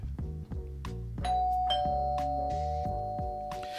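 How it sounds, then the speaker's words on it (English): A doorbell sound effect chimes within a children's read-aloud, several bright, ringing ding-dong tones sounding clearly and close with a lingering sustained note and no talk over them. "No one makes cookies like Grandma, said Ma, as the doorbell rang."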